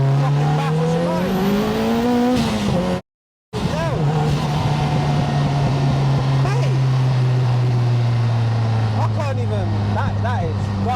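A 500bhp Lotus Elise accelerates hard at full throttle through 3rd and into 4th gear. The engine note climbs steadily, cuts out for a moment at the gear change, then roars back and climbs again, loud and close from inside the car.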